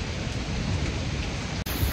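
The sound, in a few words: rain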